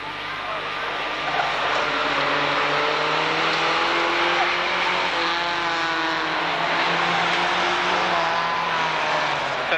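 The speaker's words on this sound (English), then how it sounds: "Glenn Tubbs races along the back straight, 714, 718, Danny Oliver in second position." Race cars from a 1991 Braintree Auto Club van meeting roar along the back straight, a steady dense engine drone with rising and falling revs throughout, with commentary voice audible over it.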